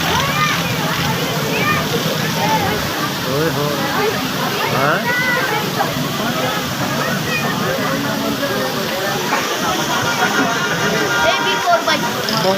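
Floodwater rushes and splashes after heavy rain in Balochistan, a loud continuous churning wash with sloshing surges, while people talk over it.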